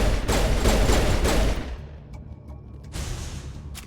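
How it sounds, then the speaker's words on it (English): Shotgun fire in Mass Effect 1 Legendary Edition, a loud dense burst of blasts for the first second and a half, then quieter scattered shots trailing off. "Shotty for the win there. I love a shotgun."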